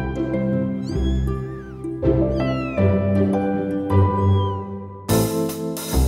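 Several young American Curl kittens, their eyes just opened, mew in repeated high, rising calls close by, the cries overlapping in bursts with brief pauses and a louder, harsher squall near the end.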